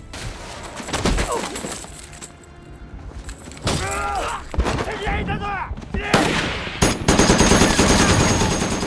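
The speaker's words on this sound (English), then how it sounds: "John really did freehand his machine gun like this" Machine gun fire and battle noise in a World War II Pacific combat scene from The Pacific: dense, loud bursts of automatic gunfire with shouting voices over the chaos.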